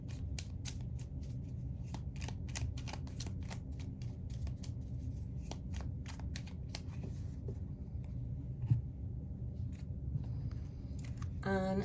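Tarot cards shuffled and laid down during a reading, a dense run of quick papery flicks and snaps at close range, steady and fairly soft.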